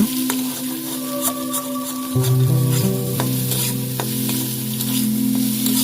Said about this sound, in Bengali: ভালো করে নাড়তে থাকবেন যাতে ডিমগুলো লেগে না যায় কড়াইয়ে তার জন্য